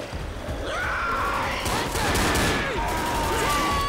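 Zombies gunned down in Left 4 Dead: dense, continuous gunfire crackles loudly for the whole stretch, with bright electronic tones and game noise layered over it.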